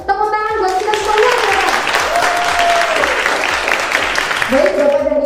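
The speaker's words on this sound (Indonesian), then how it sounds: "tepuk tangan buat kita semua" An indoor audience at an MC school session claps together in dense, sustained applause, with a presenter's voice heard at the start and again at the end.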